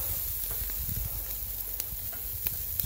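Ribs sizzle on a grill in Big Bear, a steady, dense hiss of fat crackling under a low rumble of flame, with occasional pops and no talking.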